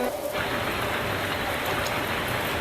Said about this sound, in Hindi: ऐसे ही बारिश होती रहती है